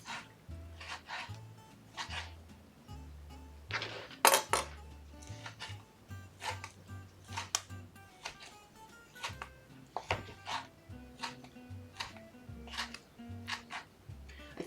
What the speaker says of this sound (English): And then I just chop this into little pieces as well.